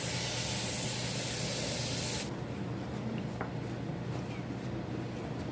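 Running water rinses a raw turkey during Thanksgiving prep, making a loud, steady hiss of spray close by. It cuts off partway through, leaving quieter handling and room noise.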